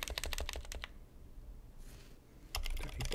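Computer keyboard keys clatter in a quick run of close, crisp taps, pause for over a second of quiet, then resume with another rapid burst of typing a network command.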